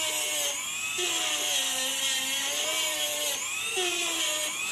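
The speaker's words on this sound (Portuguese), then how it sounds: "Aqui eu vou usar uma retífica, mas pode usar lixinha" A small rotary grinder cleans carbonized electrical contacts on a Lorenzetti Duo Shower electronic shower head, a continuous high-pitched whine that dips in pitch as it bites into the metal, loud and close.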